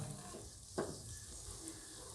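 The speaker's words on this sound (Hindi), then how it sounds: "और अब इसकी घी में बुनाई करेंगे" Semolina roasting in ghee in a pan, with a soft continuous sizzle and one brief scraping stir near the middle, close and fairly quiet with no talking.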